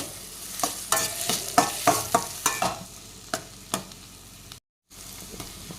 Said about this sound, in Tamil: அதையும் நல்லா சாஃப்ட் ஆகிற அளவுக்கு வதக்கிக்கோங்க